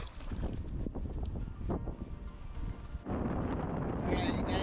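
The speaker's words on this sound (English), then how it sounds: "it got super windy out here" Gusty wind blows across a lake at Isleta Lakes in New Mexico, rumbling steadily against the microphone and swelling louder toward the end.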